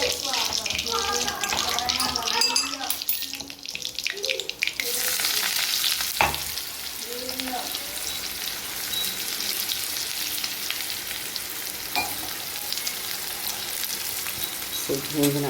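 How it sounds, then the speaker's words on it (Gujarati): Cumin, dried chilli, garlic, salt, turmeric and onion sizzle and crackle in hot oil for a tempering, a steady close frying hiss with occasional stirring clatter and brief utensil knocks throughout. "ફરી જેવું તેલ નાખ્યું, જીરું નાખ્યું. આના અંદર સૂકું મરચું, લસણ અને મીઠું અને સેજ હળદર અને એક ડુંગળી નાખ્યું છે."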